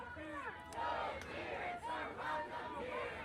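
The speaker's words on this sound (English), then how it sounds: "You guys can see how big this crowd is behind me." A large outdoor protest crowd against ICE chants and shouts together in rising, rhythmic waves, heard from a slight distance with no nearby talk.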